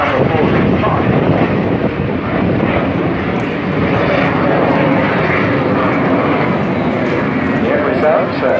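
A BAC Strikemaster jet roars overhead at the Eastbourne airshow, a loud, sustained broadband engine rush that swells and holds throughout without a break.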